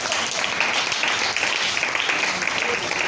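A church congregation applauds to acclaim the Lord during a sermon, a steady wash of clapping throughout with voices mixed in.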